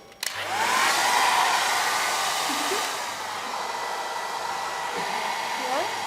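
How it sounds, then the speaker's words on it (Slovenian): A handheld hair dryer blows steadily to melt wax on decorated Easter eggs, switching on with a click and then roaring as a loud, continuous close whoosh for several seconds. "Potlej bomo pa vzeli v roke fen in vse to, kar smo mi zapolnili tiste ploskve, se bo ta vosek stopil."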